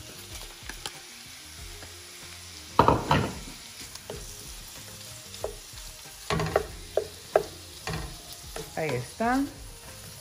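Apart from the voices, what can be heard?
butterflied shrimp sizzling in a frying pan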